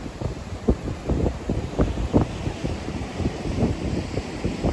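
Steady rushing Atlantic surf on the coast of Madeira, with repeated wave crashes, mixed with gusty wind buffeting the microphone; no voices.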